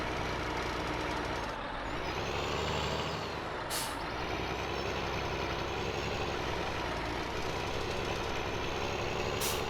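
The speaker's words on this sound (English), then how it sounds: "Oh, now we maybe got the tractor stuck." A tractor engine in the farming video game Farming Simulator 17 drones loudly and continuously, with short hissing bursts breaking through the steady rumble.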